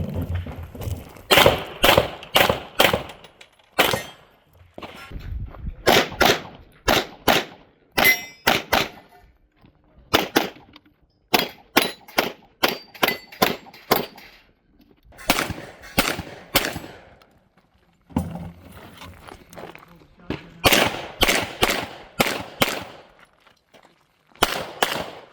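Pistol shots from an Accuracy X D1 ring out at a shooting match, loud sharp cracks fired in quick strings of four to six with brief pauses between, steel targets clanging, no talking.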